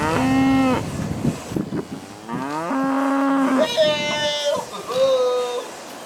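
A voice imitates a cow, giving several long, drawn-out moos in a row for an outdoor puppet character in Texas, loud and close with short pauses between calls.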